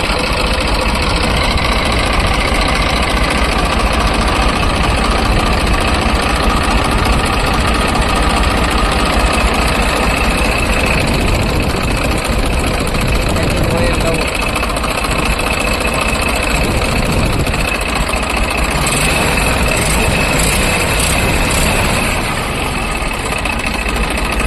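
A New Holland 3230 tractor with a rebuilt engine idles steadily at close range, a loud, continuous rumble with a constant knocking throb and no speech.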